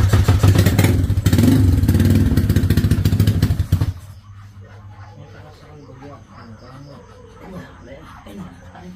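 Honda Click scooter engine running loudly up close with a steady revving drone for about four seconds, then cutting to a much quieter idle-like hum with faint clatter and background talk.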